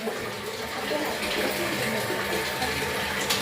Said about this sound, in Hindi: बाप रे बाप, भोरे से कपड़े धो रहल छै।